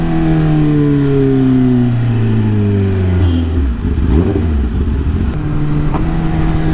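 A Kawasaki ZX10R sportbike engine revs loud and close, its pitch climbing and dropping as the throttle opens and closes, with steady road rumble underneath and no talk.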